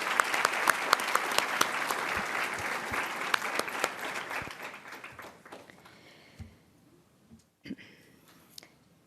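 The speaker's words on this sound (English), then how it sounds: "Let's give her another round of applause." Sustained applause from a commencement audience at a technical college's summer graduation, dense clapping for several seconds that thins out and fades, with scattered claps and murmurs toward the end.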